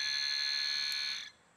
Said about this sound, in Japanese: これが汲み取る時の音ですね。